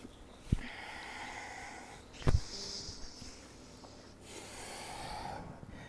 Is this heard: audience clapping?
no